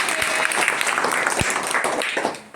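Children clap together in a classroom, a dense, steady burst of many hands that runs for about two and a half seconds before tapering off at the end.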